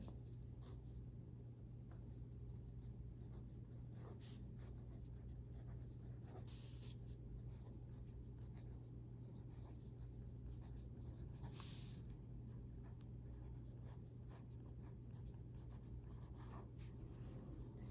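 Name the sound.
writing words of a poem by hand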